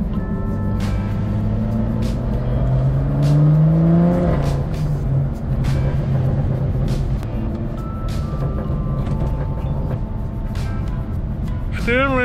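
A BMW F87 M2 with a Stage 2 BM3 tune and FBO parts drives on a public road. Its steady engine and road rumble swell into a rising rev partway through, with faint voices and a brief chirping beep near the end.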